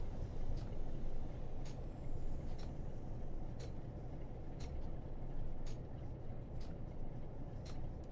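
Train Sim World 4 on the Burn Naze ICI to Preston route: a steady low rumble of a train in motion, with a high hiss fading early and a regular series of faint, evenly spaced clicks.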